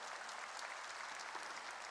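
A church congregation applauds through a sermon, with steady, dense clapping that fills the whole stretch evenly and no voice rising above it.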